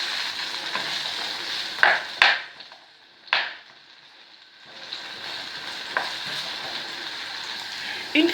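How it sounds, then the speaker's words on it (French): 250 g of potatoes cut into small cubes frying in a pan, a continuous close sizzle broken by a few stirring scrapes and a brief quieter pause. "Faire frire 250 g de pommes de terre coupées en petits carrés aussi."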